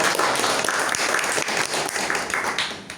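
A Toastmasters club meeting audience applauds a guest, steady dense clapping from many hands filling the room at close range for a few seconds.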